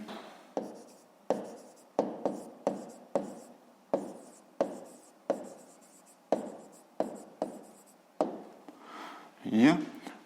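A pen writes out a fifth-grade maths answer on paper, a series of close, rhythmic scratching strokes with short pauses between words, with one brief rustle near the end.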